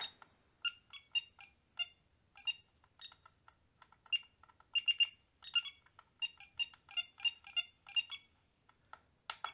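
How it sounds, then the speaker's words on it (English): Short electronic beeps in quick irregular bursts, bright clipped tones from the buzzer of a ToolkitRC M6DAC RC LiPo battery charger, close and clear against silence. "Buzzer, you can actually change the tone that you hear from the charger."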